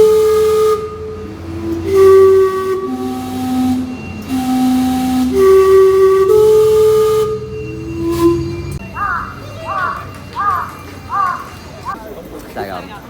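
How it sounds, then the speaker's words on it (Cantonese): The Gastown steam clock in Vancouver plays its steam-whistle chime tune, loud sustained whistle notes with hissing steam, followed by shorter chirping whistle bursts, while people talk nearby in a busy street. "著名嘅 Guest Town 嘅呢個蒸氣鐘啊！"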